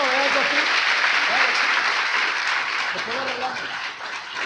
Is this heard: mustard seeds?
no